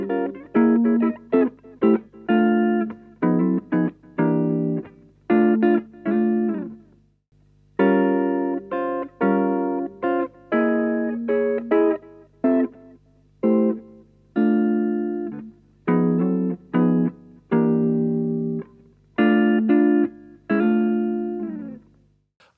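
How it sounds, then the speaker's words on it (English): An electric guitar plays a chord melody, a series of ringing chords struck in phrases with brief gaps between them, clean and close with no voices. "Let's go and have a look at a little chord melody line."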